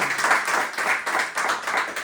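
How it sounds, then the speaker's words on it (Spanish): A church congregation claps for Jesus Christ during a sermon, a fairly close, lively patter of many hands with slight pulsing rhythm, no talking over it. "¿Le puede dar un aplauso a Jesucristo?"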